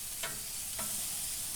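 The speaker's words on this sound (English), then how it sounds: "Look at that kraut boiling in there." Sauerkraut simmering in beer on a Weber Spirit gas grill gives a steady, soft sizzle and bubbling hiss, broken by two brief scraping stirs, with no talking.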